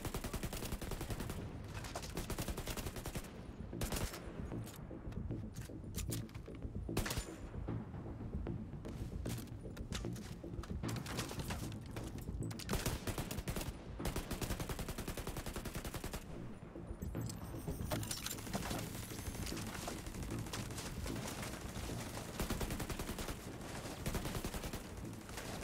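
Gunfire in The Division 2, dense bursts and repeated sharp cracks of rifles and automatic weapons rattling almost continuously, distant-sounding and faint overall, with no talk.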